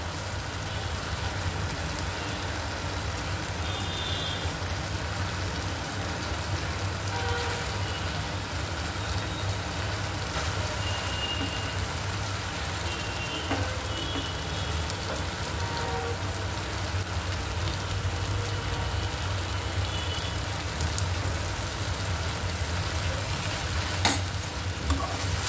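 Bitter gourd tossed into browned masala for karela bhaji, frying with a steady soft sizzle and scraping stir strokes throughout, close and even in level, no one speaking.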